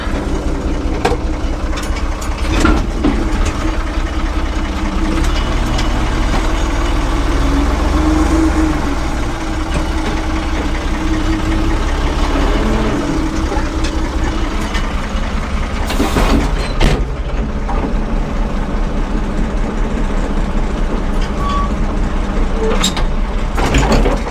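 An engine being throttled down to idle outdoors: a loud, steady low rumble runs through the whole clip, with a few mechanical knocks and a brief burst of noise partway through.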